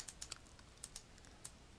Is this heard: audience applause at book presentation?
no